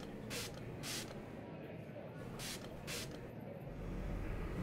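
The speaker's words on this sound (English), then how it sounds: "Face mist." Face mist spray fired in four short, close hissing bursts in two pairs, over a steady background hum.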